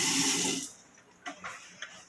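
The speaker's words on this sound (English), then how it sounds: "I'm just going to put a little water in there" Water pours in a loud, bright splashing stream into an electric canner, then stops, leaving a few soft drips and clinks afterward.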